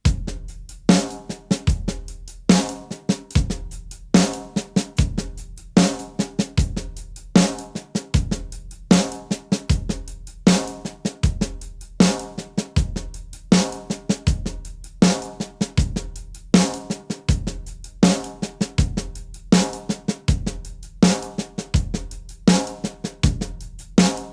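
Drum kit playing a paradiddle groove in 13/16, with the kick on beats 1 and 3 and snare accents on 2 and 4. The pattern is steady, loud and unaccompanied, repeating without pause.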